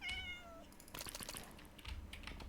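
Short synthesized cat meows from a video game, a rising mew at the start followed by quick tapping keyboard-like clicks.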